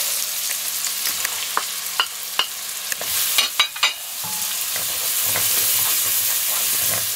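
Onion and carrots sizzle steadily in oil in a pan for lentil stew, with several sharp utensil scrapes and knocks against the pan midway, the frying hiss swelling louder toward the end.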